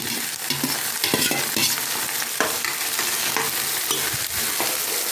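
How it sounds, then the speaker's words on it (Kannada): Legumes tossed with fried onions in a hot pan for a Kannada palya, a loud continuous sizzle with busy scraping stir strokes close up, no voices. "ಕಾಳು ಹಾಕಿ ಚೆನ್ನಾಗಿ ಮಿಕ್ಸ್ ಮಾಡೋಣ."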